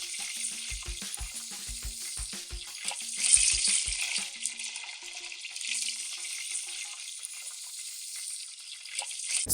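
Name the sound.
oysters deep frying in hot oil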